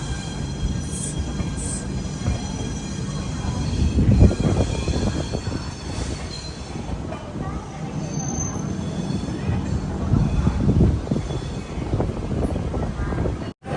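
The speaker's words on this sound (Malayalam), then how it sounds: "Secunderabad junction railway station 1-ാം number പ്ലാറ്റ്ഫോമിലേക്കാണ് നമ്മുടെ ഗോദാവരി എക്സ്പ്രസ് വരുന്നത്." Godavari Express rolling into platform 1 at Secunderabad Junction railway station, a steady low rumble of wheels and carriages with wind buffeting the microphone and a faint hiss, sustained throughout without clear speech.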